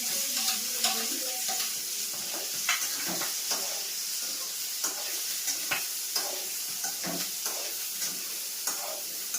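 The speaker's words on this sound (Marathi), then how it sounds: "तर आमचं ऑइल आता गरम झालं आहे, तर आम्ही त्यात आता टाकणार आहे जिरा आणि मिरची." Cumin, chili and chopped vegetables sizzle in hot oil, a steady close frying hiss broken by repeated scraping and stirring strokes, with no talking over it.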